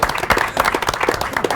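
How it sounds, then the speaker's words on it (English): Scattered hand clapping from a poker tournament crowd greeting a seeded player at a casino livestream, a short burst of fairly close claps with no talk. "Let's give Ben in the 6 seed a round of applause."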